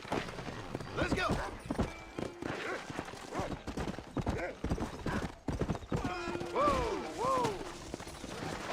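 Horse hooves clip-clop in a quick, steady rhythm through Red Dead Redemption gameplay, with a horse neighing twice near the end and people talking over it.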